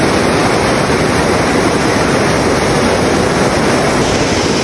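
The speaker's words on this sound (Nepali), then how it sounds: "अहिले चाहिँ यो खोला यति ठुलो छ" Loud, steady rushing of fast-flowing river water, a dense unbroken roar with no voices.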